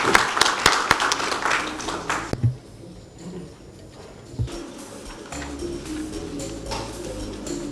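Applause from an audience at a health and climate hacklab pitch event, a burst of clapping at the start that drops off after two seconds, with soft room noise and murmur afterward.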